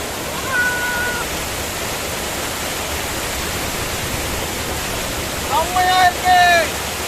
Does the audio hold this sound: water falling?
yes